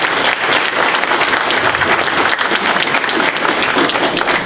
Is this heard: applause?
yes